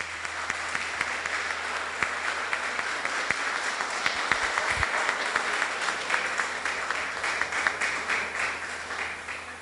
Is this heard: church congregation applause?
yes